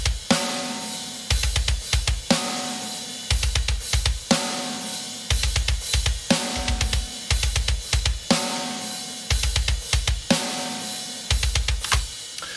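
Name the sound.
Superior Drummer 3 software metal drum kit playing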